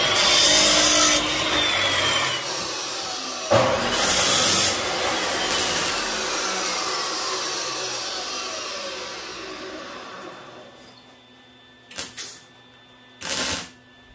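A saw cutting metal for a welding project: loud, harsh, continuous rasping that slowly fades away, followed by a few short, sharp bursts of cutting. No one speaks.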